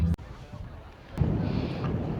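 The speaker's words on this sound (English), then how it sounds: "It's very windy, as you'd imagine," Low, rumbling wind at the top of a hill at Glastonbury Festival buffets the microphone steadily, with a brief gusty burst near the start and a stronger blustery stretch toward the end.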